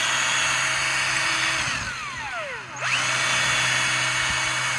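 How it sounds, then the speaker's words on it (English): A power drill whines at high speed, bogs down as it bites into an aluminum plate, then spins back up to full speed, loud and close. "we're going to pre-drill these additional holes."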